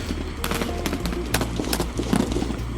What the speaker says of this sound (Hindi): दोनों तरफ से गोलियां चलने लगी।